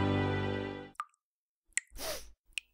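A leaking water fixture gives a few isolated drips and plops, followed by a short squishy splash and one more drip, all quiet and sparse after a fading tone.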